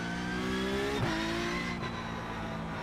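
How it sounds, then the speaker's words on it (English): Porsche Cup race car in a racing video game, its engine revving steadily with a brief dip in pitch around a gear change, loud and close throughout with no talk. "you can really hear how different the Porsche Cup car is"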